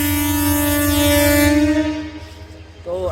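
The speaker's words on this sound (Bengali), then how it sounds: "বগুড়ার উদ্দেশ্যে ট্রেন ছেড়ে দিয়েছে" A passenger train departing a Bangladeshi station toward Bogura sounds a long, loud, steady horn blast that cuts off, leaving rumbling rail noise before a brief squeal near the end.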